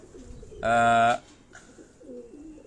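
A pigeon on a Karachi rooftop gives one loud, clear coo close by, with fainter bird sounds and light wind before and after.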